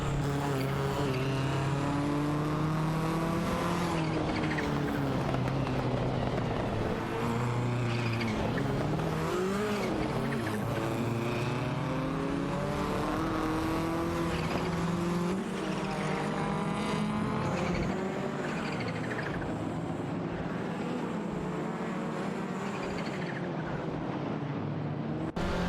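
Race cars competing in a racing video game, including a Ford Sierra RS500: loud, continuous engine drone with rising and falling revs through gear changes, occasional tire squeal, close and sustained throughout.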